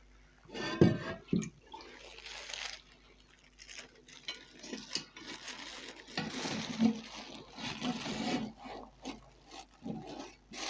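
Chicken pieces set one by one into plain water inside a pressure cooker, with irregular close knocks, rubbing and light splashes spread across the clip and no talking.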